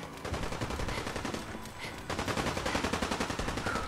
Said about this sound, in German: Was bitte ballert denn ihr da ab?